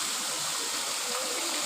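The Baitarani river pours over a waterfall in Keonjhar district, making a dense, unbroken roar of rushing water that fills the whole moment at a steady level, with no voices over it.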